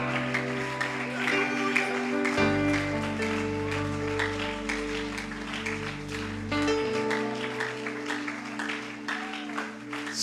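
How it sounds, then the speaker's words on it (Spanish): A church congregation applauds during a sermon, sustained clapping throughout with steady organ or keyboard chords underneath. "¿Alguien lo puede aplaudir en esta hora?"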